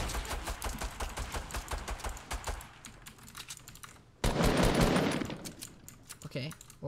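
Video game sniping gunfire, mixed with rapid keyboard clatter: sharp repeated clicks and shots in quick bursts, then a loud blast of noise midway, with a voice talking softly in between.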